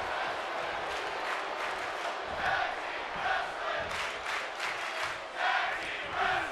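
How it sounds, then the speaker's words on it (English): A capacity arena crowd in the WWE 2K24 wrestling video game roars and cheers continuously, swelling in waves, with a commentator's voice talking over it. "Appreciation being shown by this capacity crowd here in South Beach."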